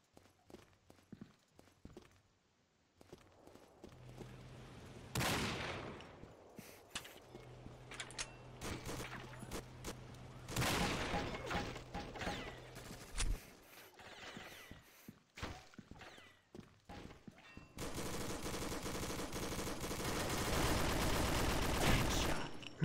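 Machine gun fire in Combat Arms, with rapid bursts of gunshots scattered across a noisy battle scene and a long, continuous stretch of automatic fire at the end.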